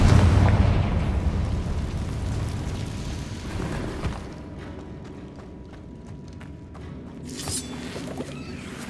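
Confringo blasting spell going off in Hogwarts Legacy, a loud booming burst with a rumbling explosive tail, followed by fainter crackling debris and game ambience.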